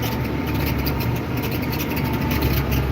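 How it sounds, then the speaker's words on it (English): A tractor chisel plowing packed soil drones loudly and steadily, its engine bogged down under the load, a constant low rumble through the whole stretch. "really bogged down tractor."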